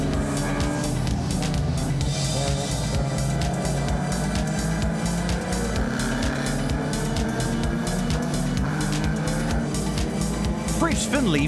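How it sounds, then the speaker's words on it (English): Lotus race car spinning around on a racing circuit during a Lotus race, with loud, continuous engine roar and tire squeal among other cars, and a voice talking over it throughout. "Finley finds himself being turned around by all the action in this Lotus race"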